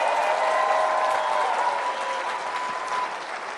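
Sustained applause from a CPAC political conference audience, a dense, loud wash of clapping that carries steadily throughout and eases off slightly toward the end.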